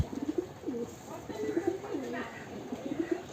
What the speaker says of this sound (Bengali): কবুতরের বাচ্চা উপরে দুইটাকে খাওয়াচ্ছে একসাথে